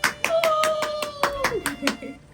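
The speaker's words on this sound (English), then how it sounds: "Give Brittany a round of applause" A few scattered hand claps sound at a home Christmas dinner cooking session, sparse and uneven, with talking and a held tone over them.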